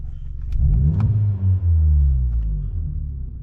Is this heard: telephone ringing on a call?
no